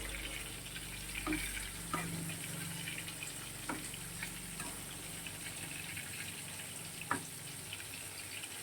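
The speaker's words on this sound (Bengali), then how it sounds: "এদিকে দেখো বেগুন ভাজাটা বসিয়ে দিয়েছি।" Eggplant slices frying in oil in a pan, a steady soft sizzle running throughout with a few sharp clicks and pops, moderately close and fairly quiet, no voices.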